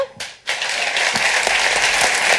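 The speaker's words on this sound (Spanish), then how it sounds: "Así que un fuerte aplauso." Audience applause at a live Spanish-language talk show, swelling abruptly after a short quiet gap into a full, steady burst of clapping that continues to the end.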